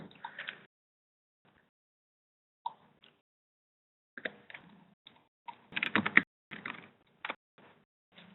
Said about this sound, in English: we just have to type it in as I have it here